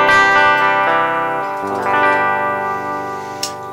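Electric guitar played through the bridge pickup with the tone knob turned up, giving a brighter, slightly gritty sustained chord that rings steadily and fades a little toward the end, with a faint pick click near the close.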